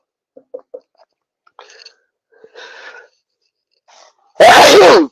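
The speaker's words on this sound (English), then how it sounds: "I'm going to have a sneezing fit." A few faint breaths and rustles lead up to one loud, forceful sneeze close to the mic at the end.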